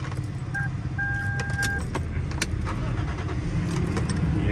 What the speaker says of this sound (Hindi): ये गाड़ी का स्टार्टअप है,